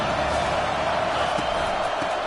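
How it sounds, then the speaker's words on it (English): Stadium crowd at a USC vs Ole Miss college football game roars in a dense, sustained wash of cheering and noise, loud and continuous throughout with no clear break. "This crowd rising up, sensing that its defense needs some help."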